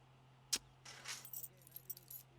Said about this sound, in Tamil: என்ன சார் பேரை கேட்டால் சாவி கீழே போடுறீங்க?